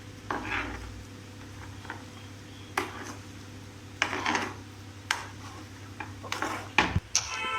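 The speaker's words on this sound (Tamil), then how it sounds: "1 கப் சுகர் பண்ணோம். நல்லா மிக்ஸ் பண்ணணும்." Pineapple and sugar are stirred together in a bowl, producing intermittent scraping and clinking utensil strokes at an uneven pace, close and fairly quiet, with no talking.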